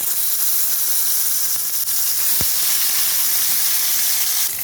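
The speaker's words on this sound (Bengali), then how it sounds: "ভালো করে একটু ভেজে নেবো মাছটা" Small puti fish fry in hot oil in a wok, giving a steady, loud broadband sizzle and hiss with one brief low knock partway through, with no voices.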